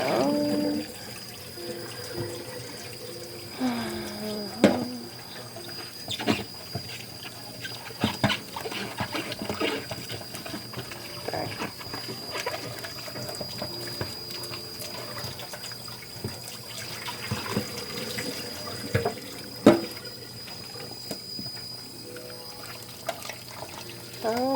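Rabbit-tail dye liquid is poured down a sink drain, producing faint intermittent splashing and trickling with scattered clatters and taps over a low steady hum.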